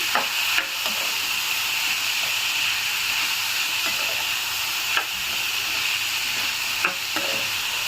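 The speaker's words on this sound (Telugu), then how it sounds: "ఇప్పుడు ఒకసారి మొత్తంగా మిక్స్ చేద్దాము." Beetroot with turmeric, chilli powder and salt stirred and frying in a pan, a steady close sizzle with occasional scrapes of the spoon, no voices.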